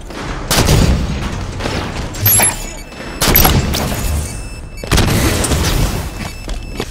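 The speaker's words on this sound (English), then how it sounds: "We grab the sniper rifle." Heavy gunfire and booming blasts in Halo 5: Guardians multiplayer, with sniper rifle shots among them. Loud impacts recur every second or two over constant battle noise, with no talking.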